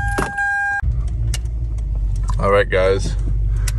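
A car with a freshly replaced ignition coil pack, previously misfiring, drives on a test drive; a steady low engine and road rumble runs throughout, with a brief electronic chime at the start and a person speaking over it.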